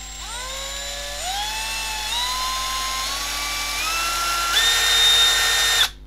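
A Milwaukee M12 2505-20 cordless drill runs close and loud, its motor whine stepping up through several speeds and then cutting off at the end.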